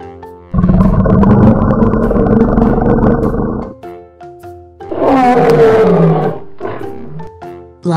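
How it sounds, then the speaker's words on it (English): A lion roars twice, loud and close: a long deep rumbling roar followed by a shorter grunting one, with no other sound around it. "Lion."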